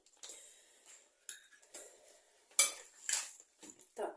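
A utensil scrapes and clinks against a pan while fish pieces are stirred for a sweet-and-sour fish dish, a few separate sharp metallic clatters with quiet gaps between them, close and fairly soft overall.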